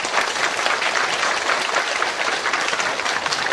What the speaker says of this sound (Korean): 우리의 따뜻한 마음을 담아서 큰 박수로 목사님 모시겠습니다